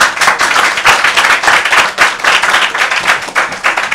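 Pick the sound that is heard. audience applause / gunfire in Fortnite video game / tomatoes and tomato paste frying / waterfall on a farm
audience applause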